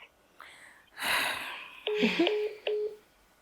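Telephone keypad dialing tones: a few short, clear beeps in an uneven sequence near the end, following some quiet breathy sounds and a soft rustle.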